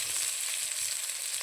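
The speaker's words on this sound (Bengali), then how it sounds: "বেগুনটা দিয়ে আমি লাল করে একটু ভেজে নেব বেগুনটা" Steady hissing sizzle of eggplant frying in hot oil in a wok, close and even, with faint crackles over a dense, continuous bed of noise.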